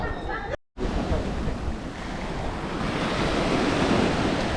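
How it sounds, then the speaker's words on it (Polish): Waves wash steadily onto Barceloneta beach in Barcelona, a broad continuous surf roar with wind buffeting the microphone and a brief dropout near the start. "No jeszcze na koniec Barceloneta, czyli plaża tutaj w Barcelonie."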